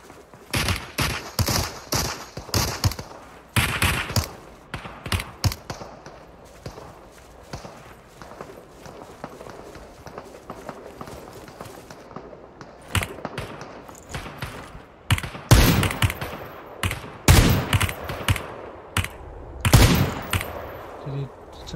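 Gunfire in the Super People battle royale game, with rapid bursts of automatic shots and single cracks coming in clusters, some loud and close, others quieter and more distant, mixed with footsteps and brief talk.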